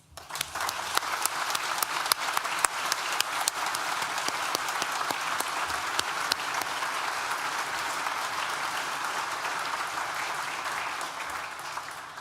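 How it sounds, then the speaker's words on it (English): A university graduation ceremony crowd applauds the graduates' supporters, a broad, even wash of many hands clapping that holds steady at a moderate distance for about twelve seconds. "Please join me in thanking them with a well-deserved round of applause"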